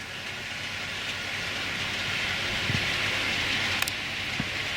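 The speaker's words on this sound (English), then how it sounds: "if I move it forward slowly, she's a lovely train, I tell you. She runs absolutely stunningly." A model LMS Patriot locomotive creeping slowly forward on its track, giving a steady soft rolling hiss and rumble with a few faint clicks, and no voices over it.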